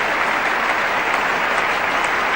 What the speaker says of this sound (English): And this big crowd rising to the Australian captain.